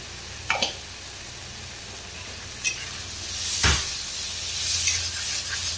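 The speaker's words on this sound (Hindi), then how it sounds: "अब इसको भूनना है। भूनने में क्या होगा, टमाटर बिल्कुल मैश हो जाएगा।" Tomato with cauliflower and potato masala sizzling and frying in a pan while being stirred, with a few sharp scraping strokes of the spoon over a steady hiss, no talking.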